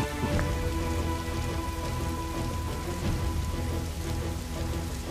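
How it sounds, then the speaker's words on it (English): Heavy rain pours down in the video game Dynasty Warriors 8, a dense, steady hiss of drops on surfaces throughout, with a faint low rumble and a sustained tone underneath. "This never-ending rain, too."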